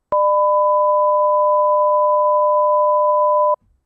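Two pure sine tones sound together as one steady, loud, unwavering electronic hum, starting and stopping abruptly with nothing else present.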